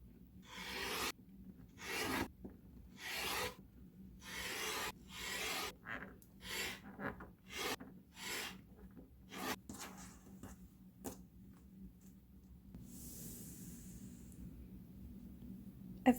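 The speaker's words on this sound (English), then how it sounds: "Now I have to cut along the diagonal lines and press my half square triangle units open." Fabric for half-square triangle quilt blocks is cut along drawn diagonal lines, giving a series of short, close rasping cuts in an irregular rhythm that fades into a quieter rustle at the end.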